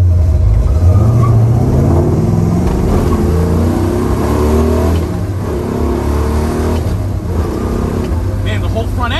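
A 1967 Pontiac GTO muscle car roars loudly up close as it accelerates hard through the gears, the engine note rising and dropping at each shift, with a voice talking over it.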